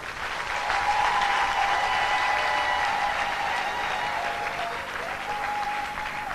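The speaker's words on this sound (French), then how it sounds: "On n'a pas suffisamment applaudi." An audience claps steadily and warmly at a church celebration of a reverend's 70th birthday, with a sustained burst of applause from a sizable crowd that swells slightly and then holds.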